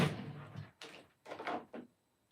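A drawer slides open and shut with a few quick wooden scrapes and knocks, close by in a quiet room, no talking.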